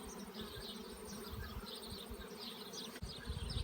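Honeybees hum and buzz continuously around an open beehive during a hive inspection, a dense close swarm drone with no talking.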